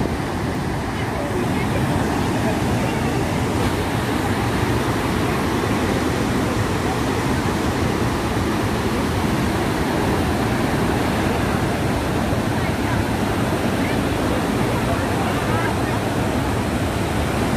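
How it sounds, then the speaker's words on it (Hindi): Purwa waterfall on the Tamas river near Rewa roars steadily, a dense, loud, unbroken rush of falling water with no pauses. "पूर्वा जलप्रपात रीवा शहर का एक शानदार झरना है।"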